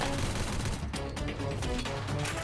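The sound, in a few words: gunfire in the video game Crisis Action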